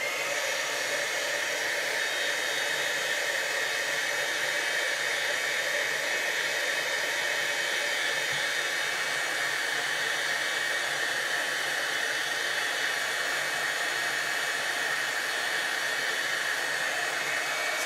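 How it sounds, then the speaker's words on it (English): A heat tool blows steadily through the whole stretch while embossing powder on a crafting project turns shiny, a loud, unbroken airy roar close by with no talking. "now I'm gonna bring in my heat tool, so it's gonna get a little noisy"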